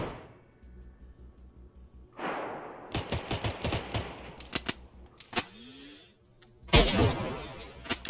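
Gunfire in the DayZ video game: a sparse volley of sharp shots, then a louder blast near the end, with faint noise between the shots and no talking.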